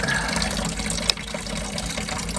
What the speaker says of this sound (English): Just let that drain for a bit.